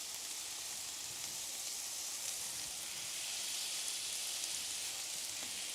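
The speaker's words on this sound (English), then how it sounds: "Listen to that sizzle." Smashed food sizzles steadily on a Blackstone griddle, a dense, even, crackling hiss like rain, close and constant for the whole stretch, with no talking.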